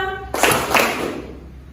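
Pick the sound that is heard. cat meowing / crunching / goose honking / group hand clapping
group hand clapping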